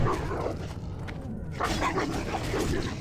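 Warg pup in World of Warcraft Classic, Lower Blackrock Spire, giving short doglike yelps and barks over a rumbling fight background, moderately loud and close, in two brief bursts.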